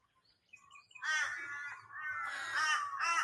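Crows or ravens give several harsh, faint caws among forest trees, starting after a second of near-quiet and continuing in ragged bursts.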